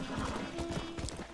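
Horse hooves clip-clop in Red Dead Redemption, a rapid run of soft footfalls under faint game ambience as a rider brings the horse into a mission town.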